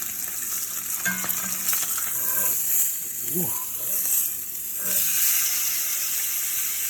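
Three tablespoons of butter melt and sizzle in a hot pan for a T-bone dinner, a steady close frying hiss with light stirring and scraping, and a few faint tonal squeaks over it.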